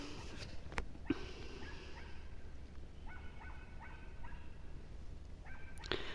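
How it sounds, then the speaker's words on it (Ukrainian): A neighbours' dog barks in the distance on a quiet evening, a few faint, spaced barks and yips over low ambient background noise, with no talking. "тільки собача десь гавкає у сусідів"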